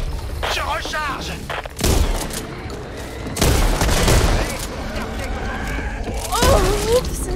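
Assault rifle gunfire in the video game Back 4 Blood comes in loud bursts, with booming shots at about two and three and a half seconds and again near six and a half, over steady game noise, with someone talking throughout.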